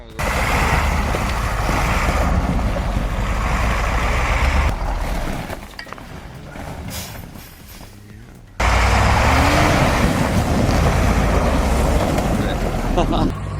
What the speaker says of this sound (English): If he can keep the wheels spinning without digging a hole, he might actually make it to the other side.